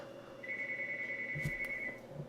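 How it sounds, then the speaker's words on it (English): A household telephone rings once in the background as a single steady electronic tone lasting about a second and a half, sitting over a low constant hum with no voices. "Sorry, that's the phone."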